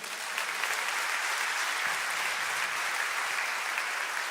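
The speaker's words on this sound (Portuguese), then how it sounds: "Você pode dar um aplauso ao Senhor?" Church congregation applauding together, a dense, even wash of many hands clapping from across the room, held steady and fairly loud for several seconds with no voice on top.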